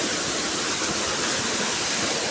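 A waterfall beside a mountain path roars as a steady, loud wash of broadband noise, continuous and unbroken with no voices.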